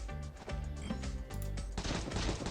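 Rapid gunfire in the video game Mr. Bone, a run of quick shots blended with busy, tonal game sounds and music, loud and continuous with no talking.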